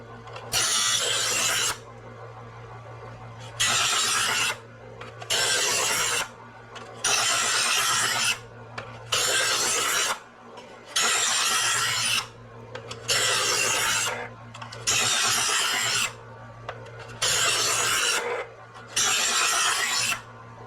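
An electric knife sharpener grinds a knife blade in loud, evenly spaced rasping strokes, about ten passes each lasting roughly a second with short pauses between, heard alone and close by.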